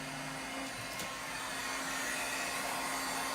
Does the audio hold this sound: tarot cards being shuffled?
no